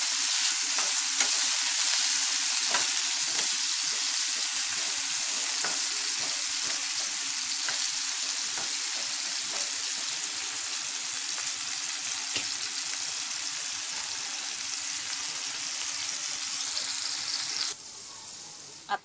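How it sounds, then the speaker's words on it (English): Potatoes frying in hot oil for potato egg rice, a constant bright sizzle with occasional crackles and pops, steady at moderate volume before cutting off near the end. "And we'll fry these potatoes."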